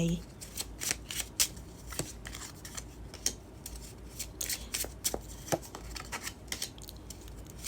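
Tarot cards are shuffled close up in quick, irregular riffles and slaps, with short crisp bursts throughout and a quiet voice in the background.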